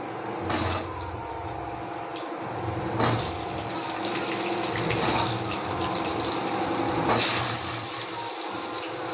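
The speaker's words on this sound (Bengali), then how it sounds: "হলুদ দিয়ে দিলাম তেলে একটু এই আলুগুলো ভাজবো" Potato pieces fry in hot oil with turmeric in a pan, a continuous loud hiss broken by several sharper spitting bursts.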